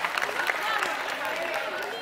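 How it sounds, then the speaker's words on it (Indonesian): A crowd at an Isra Miraj religious gathering breaks into brief applause, a dense patter of clapping heard close and bright, lasting only a couple of seconds. "Tepuk tangan semuanya jagoan kalian hebat-hebat ya"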